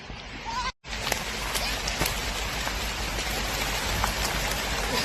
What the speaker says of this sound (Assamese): কেনেকৈ বৰষুণটো দিলে ইমান বেয়া সময়ত